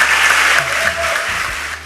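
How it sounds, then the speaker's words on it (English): An award event audience claps for an organization, a brief, dense patter of many hands at close range, with a low voice murmuring underneath. "I encourage all of you to give a round of applause to them."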